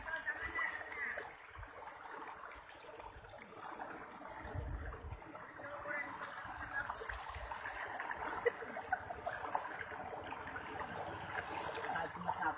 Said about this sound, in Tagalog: napakalaki ng tubig at saka napakahirap.